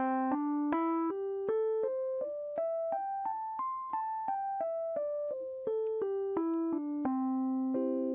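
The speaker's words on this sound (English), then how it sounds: "That is the major pentatonic." A keyboard plays a major pentatonic scale, about fifteen evenly spaced single notes rising up then stepping back down, clear and moderately loud with no talking.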